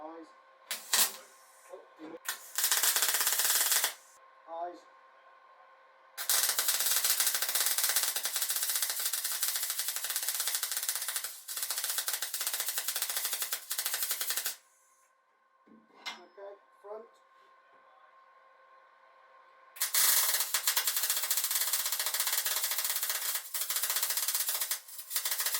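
A grinder scours red oxide primer off the edges of a steel boat panel, loud rasping bursts that start and stop several times, with quieter gaps between them.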